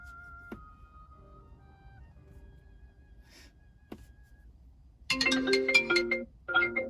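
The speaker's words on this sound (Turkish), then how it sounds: "Bağlı bulunan Apple telefonu arıyorum." A ringing tone plays through a Volvo S-series car's aftermarket Android multimedia system with CarPlay while it calls a connected Apple phone. Faint electronic tones come first, then a loud, bright warbling ring pattern sounds twice near the end, alone without talk.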